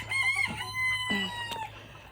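Backyard chickens from a mixed flock cluck close by while a rooster crows, short sharp calls and a drawn-out crow over a low steady hum.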